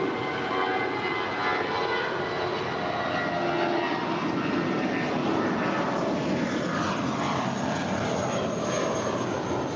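Airliner being towed at LAX airport toward a terminal on the south side, a steady broad engine roar with a hissing wash, loud and constant throughout.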